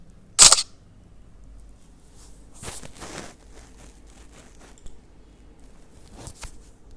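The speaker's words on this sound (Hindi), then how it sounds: "कार्ड की पिक्चर लेंगे हम," A camera shutter fires once close by while a photo is taken of a child's vaccination card, a sharp crisp click followed by faint handling rustles and quiet background noise.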